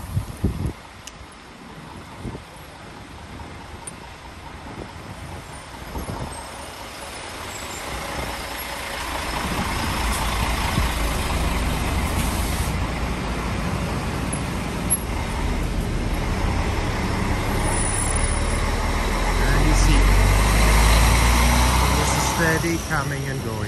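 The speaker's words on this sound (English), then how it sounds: "And the bus with the pilgrims from Poland is leaving." Carrying pilgrims from Poland, a bus pulls away at Medjugorje. Its engine swells into a steady low rumble that grows louder midway, with a hiss like an air brake. Road traffic and voices talking sit in the background.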